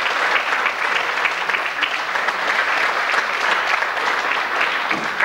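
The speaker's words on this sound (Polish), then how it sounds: "Ogromne brawa." Applause from the audience at a religious song festival in Czerwionka-Leszczyny, a dense, steady clapping that carries on evenly from start to finish with no voices on top.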